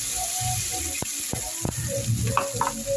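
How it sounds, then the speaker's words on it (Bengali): Spice paste sizzles and spits in hot oil in a wok after nigella seeds have been fried, a steady crackling frying noise with a few sharp clicks of a utensil against the pan, no voices. "এবার আমি ওর ভেতরে এই পেস্টটা দিয়ে দিই"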